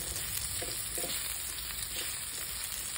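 Fish frying in hot oil for a sweet and sour dish, a steady close crackling sizzle throughout with a few soft stirring clinks.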